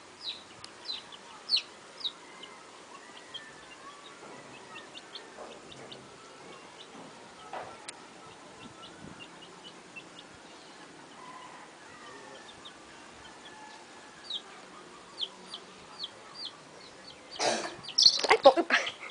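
Chicks and chickens cluck and peep softly at a home, scattered faint calls spread across a quiet background, with a louder burst of clucking and movement near the end.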